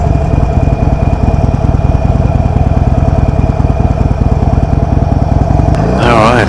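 A 2016 Harley-Davidson Sportster Iron 883 idles steadily with a loud, close, lumpy V-twin throb throughout, with a brief extra rattle near the end.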